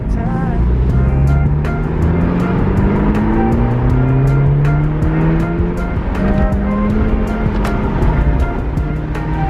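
A 10th-generation Honda Civic Si (FC3) rolls along on new wheels, its loud, continuous road and engine roar steady throughout, with engine tones rising and falling beneath the tyre noise.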